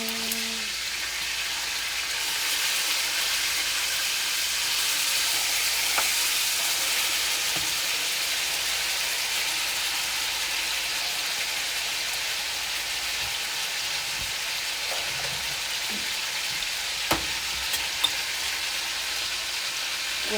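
Lamb shank sizzling in a pan on the stove, a steady broadband hiss like rain that runs throughout with a few faint scrapes and clicks of stirring.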